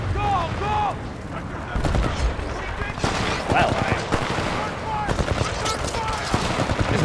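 Rapid bursts of futuristic gunfire in the shooter game Titanfall 2 crackle in quick volleys and scattered single shots over several seconds, with game voices and effects mixed in.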